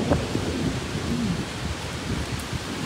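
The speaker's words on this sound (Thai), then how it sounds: "ฝนตกก็ไม่หยุด" Heavy rain pours down steadily as a dense, continuous wash, with low rumbles of thunder rolling underneath; no voices.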